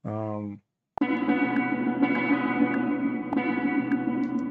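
Convolution reverb on a sample in an effects chain with delay: a short tonal note, a brief gap, then a sharp hit blooms into a thick, sustained reverberant wash. Faint soft accents recur through the tail. No speech.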